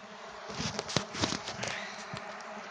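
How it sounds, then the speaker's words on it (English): Irish honeybees swarming thickly around hives being checked before adding a super, a close, steady buzzing with individual bees zipping past the microphone. "Finally, my hives are starting to look like the hives in the videos with all these guys on YouTube. Where we have plenty of bees."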